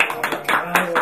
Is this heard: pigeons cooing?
no